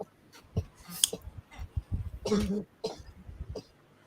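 Several short, sharp coughs scattered across a few seconds, with a louder rasping burst near the middle and faint voices in the background.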